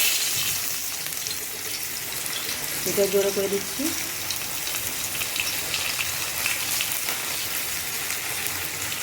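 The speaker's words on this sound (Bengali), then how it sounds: "এখানটায় আমি তেল গরম হয়ে গেছে, এখানটায় আমি লঙ্কা দেবো, তেজপাতা দেবো" Chillies and bay leaves hit hot oil in a home kitchen, giving a steady rain-like sizzle throughout, with a brief louder spattering burst in the middle while someone speaks briefly.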